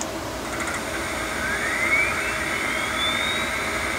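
An ESU sound decoder plays through the speaker of an N scale Kato Mikado model locomotive, giving a steady, fairly loud hissing rumble with a thin whine that slowly rises in pitch across it.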